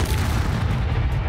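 A Confringo fire spell in Hogwarts Legacy bursts with a loud, close, rumbling boom that fills the whole short moment.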